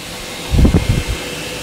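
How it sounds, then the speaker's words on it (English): A dehumidifier and a window air conditioner run together in a steady, even hum, with a brief cluster of soft low thumps partway through. "still running a dehumidifier, still running the window air conditioner"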